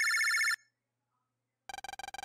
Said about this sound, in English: Lan, phone.